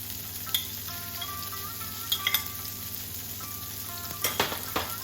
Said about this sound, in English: I will also grill some boiled potatoes side by side